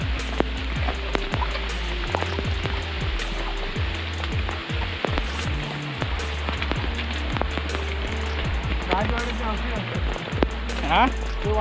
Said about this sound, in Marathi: पाऊस तर एवढा भन्नाट चालू झालाय